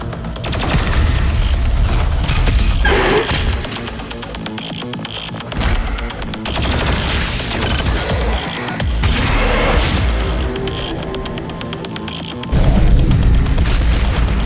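The BFG 10,000 firing in Doom Eternal, heavy booming blasts and rumbling explosive bursts that roll on loudly across a long stretch, with a few sharp surges.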